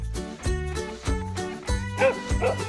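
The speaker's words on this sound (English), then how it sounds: "It's a dog." A dog on a farm gives a quick series of about six yappy barks in a fairly even rhythm, loud and close, with nothing else sounding between them.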